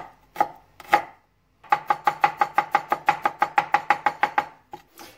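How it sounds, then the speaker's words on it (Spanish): A knife chops garlic on a cutting board, a few separate strokes followed by a quick, steady run of about sixteen even, close, crisp chops. "Vamos a cortar el ajo."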